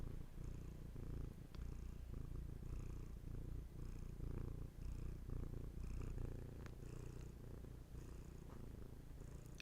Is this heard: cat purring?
yes